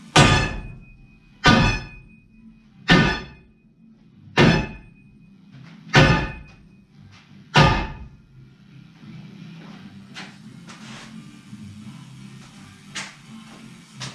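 A sledgehammer strikes the metal body of a Soviet pickup car, six heavy, evenly spaced blows about one and a half seconds apart, loud and close, followed by fainter tapping and clattering.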